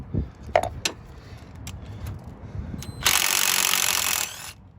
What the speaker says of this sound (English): Loosen up the rest of the way with the power tool.